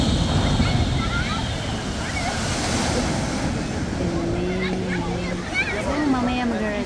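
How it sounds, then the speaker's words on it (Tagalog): Outdoor water ride at Europa-Park, a boat landing in the water with a broad rushing splash and steady surf-like wash, wind noise on the microphone, and people talking over it. "panoorin muna natin habang naglalanding sa tubig ang bangka"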